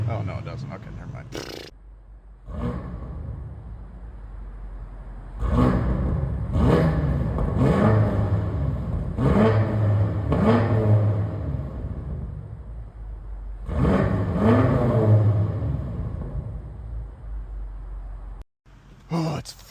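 Stock BMW M5 F90 V8 engine revved repeatedly in bursts, loud rising and falling blips close by, with someone talking over parts of it.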